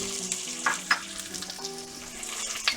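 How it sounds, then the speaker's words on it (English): Chopped onions and celery sizzle and crackle steadily in a hot pan for a German beef roulade, with brief louder spatters and stirring scrapes over a constant frying hiss, close up and with no talking. "We're gonna add our onions. Our celery. In."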